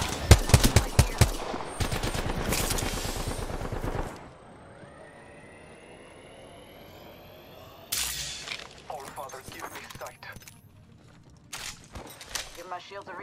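Bursts of rapid automatic gunfire in Apex Legends, loud and close at first, then a lull with distant tones before more shots and scattered cracks resume, with a voice talking in between.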